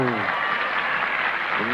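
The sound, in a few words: tennis player Martina applauding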